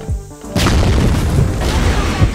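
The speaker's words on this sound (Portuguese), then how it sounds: "Granada!" A grenade in a first-person shooter bursts into a loud, close boom after a brief quieter moment, followed by a sustained rumbling roar that slowly fades.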